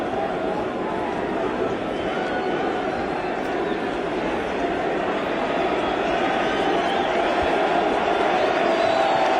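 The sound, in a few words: baseball crowd standing and cheering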